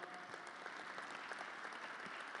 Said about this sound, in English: I noticed some folks clapped